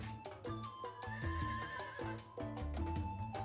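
Horses in a medieval real-time strategy game give a clear neigh over a busy mix of game music and clip-clopping hooves, with no talking.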